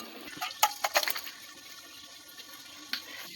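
Boiled taro tips out of a cooking pot with a short burst of splashing water and liquid early on, then fades to a quiet trickle and one last small splash.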